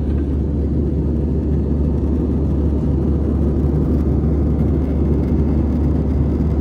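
A steady, loud low rumble and whir fills the space without pause, like engines heard from inside an aircraft cabin in flight.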